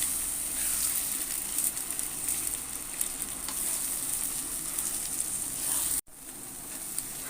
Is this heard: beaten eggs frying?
yes